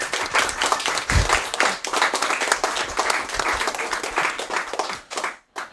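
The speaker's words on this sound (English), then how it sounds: "I just love how the audience is clapping after every level." An audience at a live speedrun of New Super Mario Bros. Wii breaks into loud, sustained applause and clapping after a level is cleared, dense and close, then cuts off abruptly near the end.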